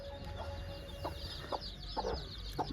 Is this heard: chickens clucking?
yes